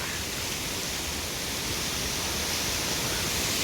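Waterfall at a temple park in Malaysia, a steady broadband rush of falling water that holds evenly loud and close for the whole span, with no voices over it.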